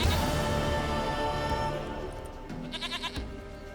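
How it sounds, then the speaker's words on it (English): A goat in The Witcher 3 bleats in short wavering cries over a layered ambient game background, fairly faint and without speech. "Goat of mine, dearest, sweetest goat."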